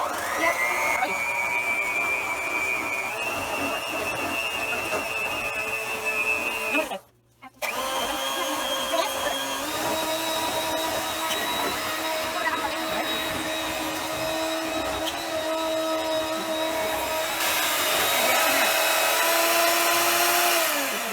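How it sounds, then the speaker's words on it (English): An electric hand mixer with beaters whirs steadily on low through cupcake batter from a Swiss chocolate cupcake kit, loud and close, with one brief pause and a slight change in pitch partway through. "I'll use the beaters"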